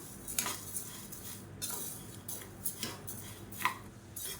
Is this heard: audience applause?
no